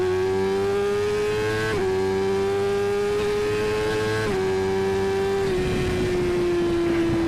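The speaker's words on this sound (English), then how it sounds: "we're getting ready to do some acceleration, quick acceleration between the first camera and the second camera" A motorcycle engine revs hard through quick acceleration, its steady harmonic whine climbing in pitch, dipping briefly at two gear shifts, then settling into a smoother, slightly falling drone near the end; close and loud with no talking.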